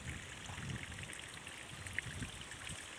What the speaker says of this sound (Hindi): ये पानी जो आ रहा है, ये इन पहाड़ों में से झरने टाइप, पहाड़ों में से रिस के पानी आ रहा है।